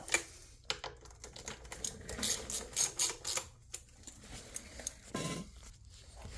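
Engine bolts on a 2020 Chevy Express 3500 LS van with a 6.0-litre engine are snugged down with a ratchet wrench. Quick, close bursts of sharp clicking come in uneven runs, then trail off.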